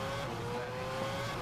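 A Formula 1 race car engine from the refueling era holds a steady, high-pitched whine, loud and continuous with no talk over it.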